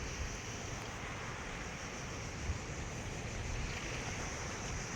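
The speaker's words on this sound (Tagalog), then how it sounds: "Lalaki ng alon." Big waves break and wash in a constant, dense roar, mixed with wind buffeting the microphone, with no pauses and no voices.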